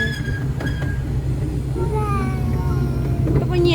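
A passenger train rumbles along steadily with a low, continuous drone and faint squealing overtones. Voices of an adult and someone talk throughout.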